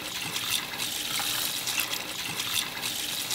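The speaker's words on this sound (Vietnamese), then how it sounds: "Rồi rửa lại cho sạch." Shrimp being rinsed under running water in a kitchen: a soft, steady stream of splashing and trickling with small bursts of agitation as the shrimp are moved, fairly quiet and close.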